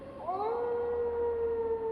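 A wolf howl, part of an open-world RPG trailer scene, rises in a sliding tone and then holds a long, steady, mournful note, clear and fairly close, with no voices over it.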